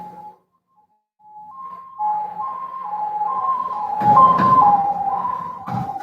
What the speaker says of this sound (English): You hear some ambulances?